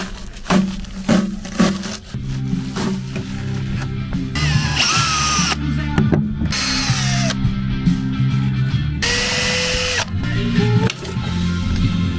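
A power drill backing screws out of metal trim in an RV floor during demolition, with several short whirring bursts separated by pauses, close and fairly loud.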